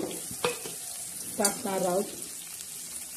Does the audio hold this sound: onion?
yes